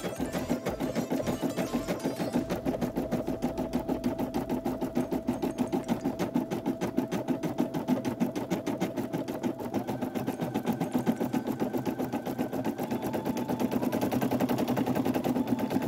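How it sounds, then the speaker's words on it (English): A single-needle embroidery machine stitching the letter S, giving a steady, rapid mechanical stitching rhythm that runs close and continuous throughout, slightly louder near the end. "He's embroidering the letter S."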